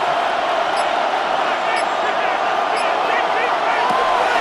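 Steady roar of a football stadium crowd in Madden NFL 26, Seahawks versus Titans, building on third down; a continuous dense wash of cheering with faint whistles, under commentary.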